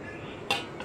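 A bowl set down in a kitchen lands with a single sharp clink near the middle, followed by a faint second tap, against a quiet background.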